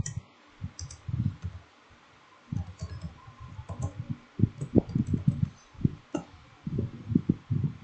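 Fingers type on a computer keyboard, irregular bursts of soft clicking keystrokes fairly close by, with short pauses between groups of keys and no talk over it.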